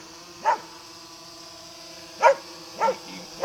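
A dog lets out four short, sharp barks spaced irregularly over a few seconds, moderately close, against a quiet steady background hum.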